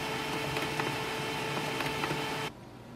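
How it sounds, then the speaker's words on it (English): An HP LaserJet Tank 2504dw printer restarting gives off a steady, close mechanical whir with faint tonal hum and light clicks. It cuts out abruptly near the end, leaving only quiet room noise. "Printer is restarting."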